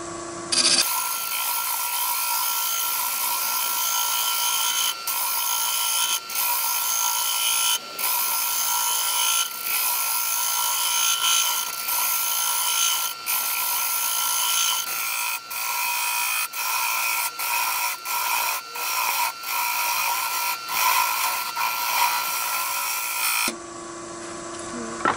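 A half-inch round nose tool cuts the foot of a striped wooden platter spinning on a lathe, a sustained scraping hiss with steady tonal hum, broken by brief regular dropouts as the cut shifts, running close and loud.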